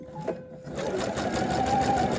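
A home sewing machine stitches a V-neck facing along a drawn line, its steady rapid whirr running continuously and close after a brief quiet start.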